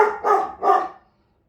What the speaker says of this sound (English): there's a dog outside just barking